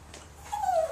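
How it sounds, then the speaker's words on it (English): A dog cries to be let outside after overnight rain: a short, close, high whimper that rises into a thin sustained whine over faint background hum. "you can hear this dog over here crying"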